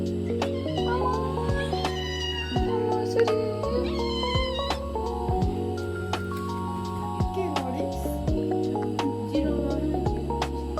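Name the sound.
cat meowing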